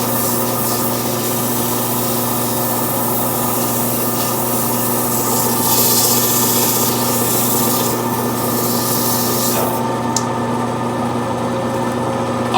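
Sandpaper rubs steadily against a spinning wooden snowman on a wood lathe, a continuous close rasping hiss over the lathe's even motor hum, with no talking.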